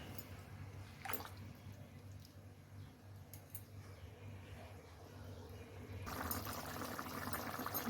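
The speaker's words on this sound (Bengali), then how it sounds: "এখন আমি ঝোলের জন্য জল দিয়ে দিব জলটা আমি গরম করে রেখেছি" Heated water goes into a pan of oil-fried spices to make gravy for catla fish curry, giving a quiet sizzle and pour that swells into a louder rushing hiss near the end.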